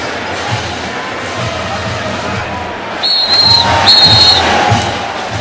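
Referee whistle at the 2015 Army vs Navy college football game, blown in a few sharp blasts that stand out over a steady, noisy stadium crowd.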